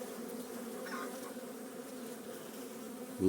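Honeybees buzz in a steady, low drone close by at an open hive with a queen and brood, a busy swarm humming continuously with a louder bump at the very end.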